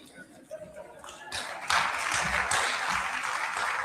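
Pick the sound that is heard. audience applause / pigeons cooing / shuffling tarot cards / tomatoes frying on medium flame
audience applause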